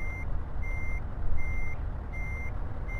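A heavy truck reverses into a parking spot in Euro Truck Simulator, its backup alarm sounding four evenly spaced beeps over a loud, continuous diesel engine rumble, with no talking.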